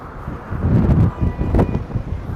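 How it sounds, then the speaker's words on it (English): Gusty outdoor wind buffets the microphone on a New York City street, a low rumbling roar that swells and fades in uneven bursts over a couple of seconds. "I hope it's not getting too windy."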